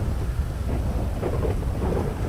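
A stormy GTA 5 scene carries a continuous deep thunder rumble over falling rain, loud and sustained, with nobody talking.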